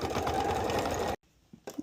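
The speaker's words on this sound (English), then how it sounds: "now we're ready to sew" Sewing machine stitching fabric for a birthday dress, a fast steady close-up whirring run for about a second that stops abruptly, followed by a few faint clicks.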